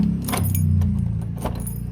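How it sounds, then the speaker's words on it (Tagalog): A bunch of keys jangles close by while a house door is locked, bright metallic chinks in short bursts over a steady low engine rumble from a nearby motorbike. "Kasara na lahat ng ating bahay. So, lock ng ating pinto."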